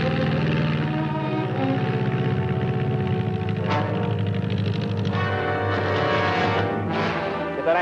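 A propeller plane from a 1950 film drones loud and steady overhead, the engine roar filling the whole clip with a throbbing, swelling pitch as it passes.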